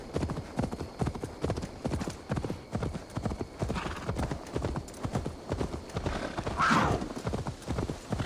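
Horse hooves gallop in Assassin's Creed Valhalla, a fast, steady clip-clop rhythm that runs nonstop and close, with a brief whinny-like burst near the end.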